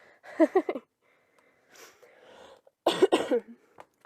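A person coughs twice, once near the start and again a few seconds later, each a short close burst in an otherwise quiet room with soft breathy sounds between.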